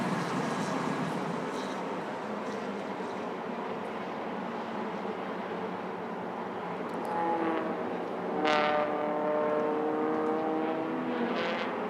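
MT1600 touring cars race in a tight three-car pack into turn 1 at the Malaysia Touring Car Championship, a steady loud engine roar with a wavering tone that swells near the end as the cars pass close.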